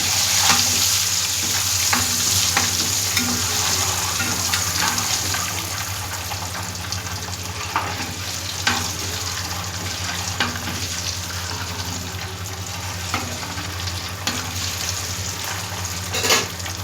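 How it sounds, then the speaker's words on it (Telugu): Eggs fry in hot oil with turmeric in a pan, making a loud, constant close-up sizzle with occasional scrapes from stirring. "నూనె వేసా, పసుపు వేసా, ఈ గుడ్లు ఎర్రగా వేస్తున్నాను"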